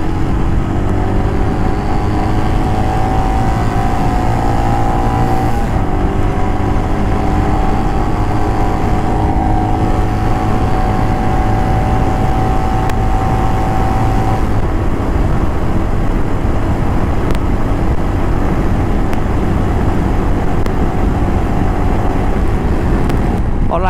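A Royal Enfield Himalayan motorcycle pulling hard on an open road, a loud continuous engine drone that climbs in pitch through each gear, with brief breaks at the shifts and strong wind noise.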